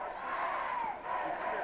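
Big crowd at a 1991 high school girls' basketball district semifinal in Chillicothe, a sustained roar of cheering and yelling heard at a distance.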